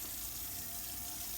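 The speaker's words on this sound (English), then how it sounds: "Warm water, rinse it for a couple seconds" Warm water runs steadily from a kitchen tap into a sink to rinse a pair of tongs, a constant close hiss with no voices.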